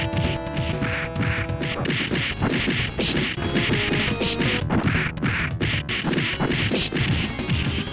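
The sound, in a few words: punching and hitting sounds from video game Final Fight (SNES)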